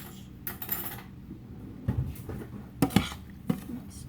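Sugar and ingredients for a Black Forest cake are mixed in a bowl, with irregular clinks and scrapes of a utensil against the dish, some sharper knocks standing out close by.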